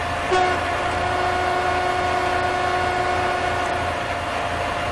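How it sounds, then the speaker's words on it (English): Synthetic train horn in Train Simulator 2016 on the Riviera Line, holding a steady two-note chord for several seconds over a low engine rumble, sounding close and even. "So we'll sound the horn again."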